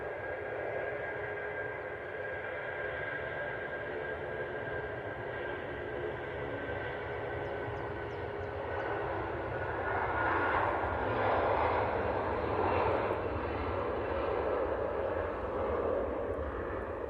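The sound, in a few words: Airbus A380 airliner taxiing past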